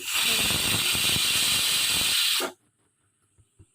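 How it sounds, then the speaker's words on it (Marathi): A pressure cooker cooking vegetable pulao lets out a loud, sharp whistle of escaping steam for about two and a half seconds, then cuts off abruptly into near silence. "कुकरला झाकण लावायचे आणि 2 शिट्या करून घ्यायच्या."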